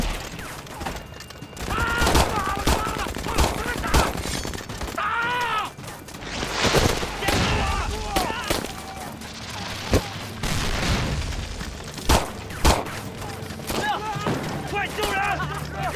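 Rapid gunfire and booming explosions fill a Chinese anti-Japanese war drama battle scene, with loud bursts of shots, groans and shouting voices over a dense, continuous din.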